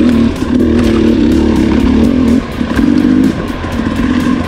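A 2018 KTM 250XC dirt bike engine revs hard and close, its rasping two-stroke note rising and falling in continuous bursts with a brief dip midway, no voices present.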